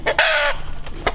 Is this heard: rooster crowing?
yes